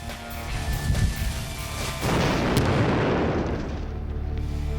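A large MythBusters explosion from a vapor-trail test, a sharp boom followed by a sustained roaring blast that fills the clip loudly, with no talk.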